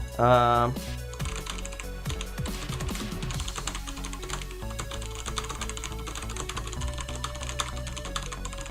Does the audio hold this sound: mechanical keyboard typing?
yes